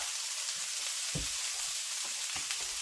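Cabbage and onions sizzle and fry in a pan for colcannon, a steady soft crackling hiss with a few low stirring bumps, close and alone without talk.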